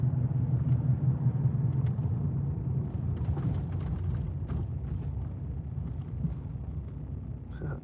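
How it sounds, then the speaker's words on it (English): Car turning at a street corner, a low rumbling road and engine noise that stays steady and close and fades slightly toward the end, with no talk. "This car is gonna turn right now at the street."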